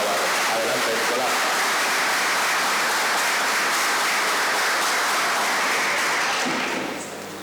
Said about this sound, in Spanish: un aplauso de nuevo para el profesor Nicolás Cuenca Navarro